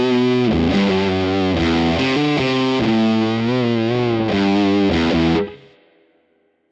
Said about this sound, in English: now what does it sound like without the green meanie?